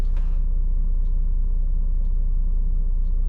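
A Volvo B12B coach bus with a 12-speed iShift transmission cruises along, heard as a constant deep engine and road rumble from inside, with a few faint clicks above it and no talking.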